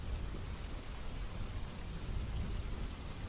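Heavy rain pours down in a steady, dense downpour, with a constant hiss of drops on surfaces and low rumbling beneath, loud and unbroken throughout.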